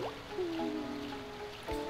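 Water sounds in the Chao Garden of the video game Sonic Adventure 2, faint drips and trickling splashes over soft tonal game music, quiet and brief.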